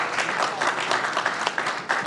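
A hall audience at a News18 India Chaupal event gives steady, dense applause to welcome Union Minister Piyush Goyal, a bright continuous clapping wash with a few sharper individual claps standing out.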